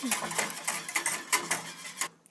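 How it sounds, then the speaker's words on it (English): Honey latte made with raw organic local honey being whisked in a cup, a fast run of light metallic clinks and scrapes that stops abruptly near the end. "So all you gotta do is whisk the latte together."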